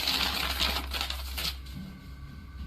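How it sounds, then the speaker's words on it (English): Hard items hit a floor with a short clatter of clinks and rattles at the start, then the sound drops to a quieter background hum. "A few harder items are also heard being thrown to the floor."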